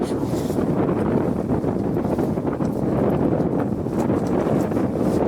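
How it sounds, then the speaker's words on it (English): Strong, sustained wind buffets the microphone outdoors as a loud, continuous roar with gust swells throughout and no speech. "I didn't think this wind would be so sustained and strong."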